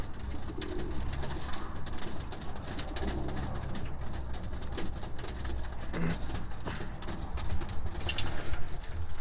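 Roller pigeons coo softly over a steady background of rustling and patter, with low repeated calls spread through the whole stretch.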